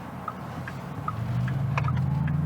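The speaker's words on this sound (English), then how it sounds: "So you can hear it a bit better. Sounds like a car." A Porsche Taycan electric car driving, with a low hum that swells and rises steadily in pitch, plus scattered light ticks and clicks, heard from inside with no talking.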